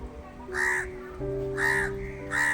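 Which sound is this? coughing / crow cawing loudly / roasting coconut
crow cawing loudly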